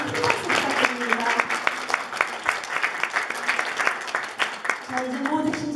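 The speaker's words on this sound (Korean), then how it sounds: "오늘 우리 학교 대표로 나와가지고 열심히 해주신 학생들한테 다시 한번 큰 박수 부탁드립니다." An audience at a Korean school speech contest applauds the student participants, a steady patter of many hands with distinct sharp claps, voices audible over it toward the start and end.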